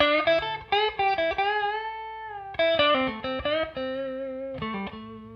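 A bluesy electric guitar lick played through a dry amp with no reverb: sharp, clean plucked notes and short runs, some held and sustained, with abrupt stops between phrases and no talking.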